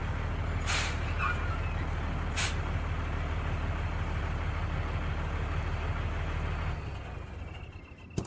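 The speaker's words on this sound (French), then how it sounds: "De l'autre côté, un gros camion arrive. Soudain, on entend les freins." A large truck rumbles in with a heavy low engine drone, punctuated by two sharp hissing bursts of air brakes, then the engine cuts and the noise falls away, ending with a small clunk.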